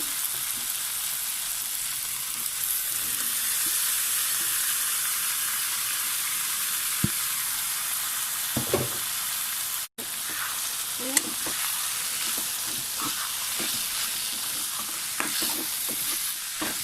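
Pineapple pieces frying in hot spiced oil for pineapple pickle, a steady dense sizzle throughout with occasional stirring scrapes, close and continuous.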